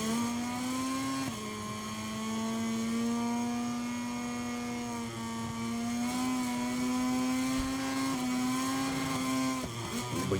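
Aprilia MotoGP bikes in MotoGP 23 hold a loud, steady high engine whine that shifts pitch slightly at gear changes, near and constant with no voices.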